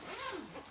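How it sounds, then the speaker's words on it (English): A zipper closes on a tightly packed small bag with a short, strained rasping pull lasting under a second, close and fairly quiet. "So I will put this zipper to the test for sure."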